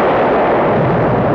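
A car explodes with a loud, sustained blast, dense rumbling roar filling the whole moment with no voices.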